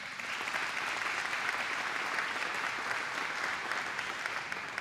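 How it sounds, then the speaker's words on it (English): Audience applause for GM chief Mary Barra at a presidential event on the infrastructure law, steady dense clapping from a large crowd throughout, fairly distant and even, with no talk over it. "another round of applause for Mary"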